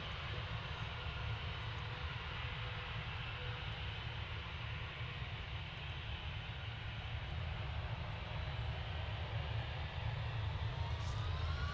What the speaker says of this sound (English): Finnair's on the roll. Probably hear it spooling up in the background.